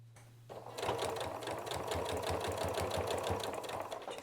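A Janome sewing machine runs steadily, stitching a small fabric coaster made from scraps, its fast even needle chatter starting after a brief pause and continuing close and loud without any talking.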